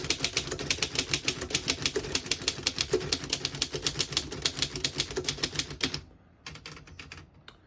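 A 1925 Underwood No.5 antique desktop typewriter clatters as its keys strike in a rapid, steady rhythm of sharp close clacks, then slows into a few scattered taps.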